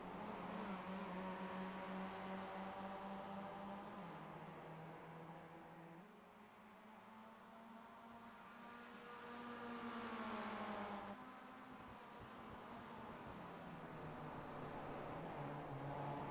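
A Mazda MX5 race car on a circuit at Zolder comes off the throttle, its engine drone dropping in pitch, then swelling again, steady and continuous at a moderate distance.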